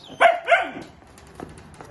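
Two sharp, close puppy barks sound in quick succession, followed by fainter rustling and quieter household noise.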